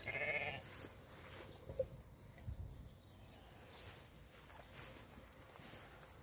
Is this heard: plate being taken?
no